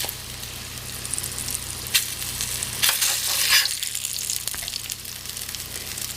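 Potato patties made from leftovers fry in lard on an electric stove, a steady close sizzle with brief louder crackling bursts partway through, no talk.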